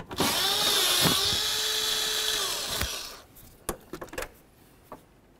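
Power tool whirring as it backs out a 10 mm fan shroud bolt on a 2006-10 Ford Explorer, a steady loud run of about three seconds followed by a few sharp metallic clinks and taps.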